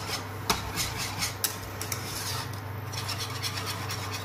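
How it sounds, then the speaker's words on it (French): Flan custard is stirred in a saucepan on the stove, giving a soft continuous scraping with occasional sharp clicks of the utensil against the pan, close and fairly quiet. "Faut bien remuer partout dans ta casserole."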